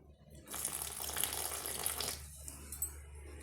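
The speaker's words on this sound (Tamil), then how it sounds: "நான் வார்ம் வாட்டர் தாங்க சேர்த்துக்க போகிறேன்" Warm water pours in a steady stream into garlic murukku dough for about a second and a half, then stops, followed by a few soft knocks and a sharp clunk.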